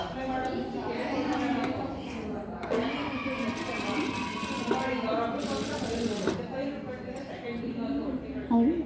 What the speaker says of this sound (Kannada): ಅದಕ್ಕೆ ಇನ್ನೊಂದು ಹೊಲಿಗೆ ಇದ್ರ ಮೇಲೆ ಒಂದು ಕೊಡಿ